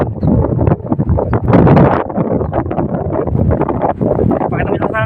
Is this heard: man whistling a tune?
no